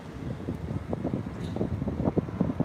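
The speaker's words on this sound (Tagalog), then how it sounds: "Medyo mahangin." Wind buffets the microphone outdoors beside the Sydney Opera House, a low, constant rumbling gust noise with irregular surges throughout.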